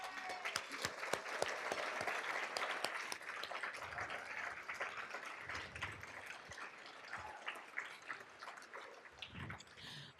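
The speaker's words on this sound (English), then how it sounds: "let's give them a round of applause." At a journalism hall of fame event, an audience applauds standing committee members with dense, fairly quiet clapping that gradually thins and fades toward the end.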